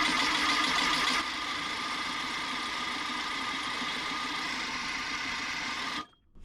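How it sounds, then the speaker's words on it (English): A 1776cc VW engine on its first start-up cranks continuously over the starter for about six seconds, a dense, even buzzing whirr that loses some brightness after the first second before cutting off abruptly. "So we'll just go ahead and start cranking."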